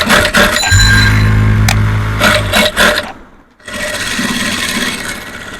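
A sewing machine stitching a three-piece dress fabric, running in a loud, steady mechanical whir, pausing briefly and then starting up again.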